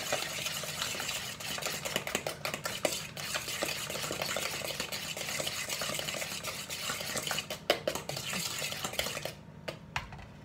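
Eggs, sugar and lemon zest are whisked together in a bowl for a French yogurt cake, giving a fast, steady rhythmic clatter of utensil against bowl that continues throughout, with brief pauses and a final clink.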